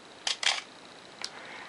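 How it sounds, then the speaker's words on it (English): A Minolta XD5 film camera fires its shutter: two quick crisp clicks close together, then one more a moment later, alone in a quiet room. "the bulb setting where I just hold it down and the shutter stays open as long as I hold it down"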